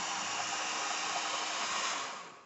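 A hair dryer blows steadily to dry paint between coats on a diamond-patterned tag, a close, even whooshing hum that tapers off at the end.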